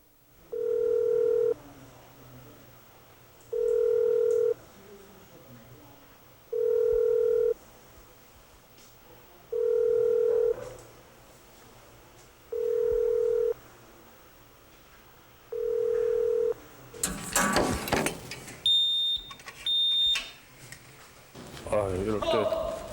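A telephone ringback tone repeats six times in steady evenly spaced beeps as a call goes unanswered, followed by clatter and voices toward the end.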